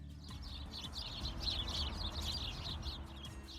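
A house sparrow chirping repeatedly in quick, busy bursts, fairly faint against a low background hum.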